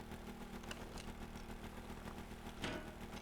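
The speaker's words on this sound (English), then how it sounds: "start the engines. Engines are starting." Boat engines in the Stormworks game turning over and starting up, a faint low mechanical rumble with a rhythmic knocking chug and a brief louder burst near the end, no voices.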